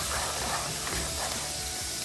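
Lamb with chicken stock and sugar sizzles in a hot pan for an Afghan dish, a dense, continuous hiss and crackle heard close up with no talking.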